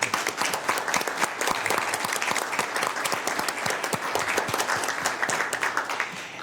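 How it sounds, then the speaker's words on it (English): Sustained, dense applause fills a public meeting room of the air quality board, many hands clapping at once in a continuous wash that stays loud and even throughout, with no voices on top. "if we could give her one more hand of applause"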